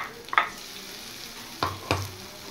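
Onion frying with garlic and ginger paste in a pan, a soft low sizzle with a few distinct scraping stirs, brief and close, no voices.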